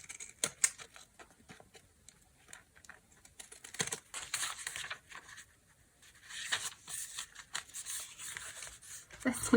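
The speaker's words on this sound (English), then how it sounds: "Fancy scissors" Fancy decorative scissors cut through junk-journal paper in a series of close, crisp, crunchy snips and rustles, coming in uneven bursts with short pauses, and handling noise in between.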